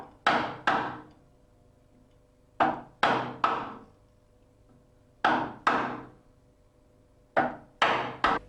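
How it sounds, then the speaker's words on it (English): A chisel tapped into timber to cut a hinge recess, struck in sharp, close wooden knocks that come in quick groups of two or three with short pauses between, alone without talk. "turn the chisel over and mark off small areas to be removed"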